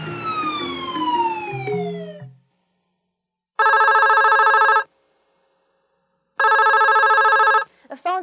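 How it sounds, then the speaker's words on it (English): A cartoon telephone rings twice in long electronic bursts separated by silence, preceded by descending whistly cartoon-like tones. "Ringing, Gilby."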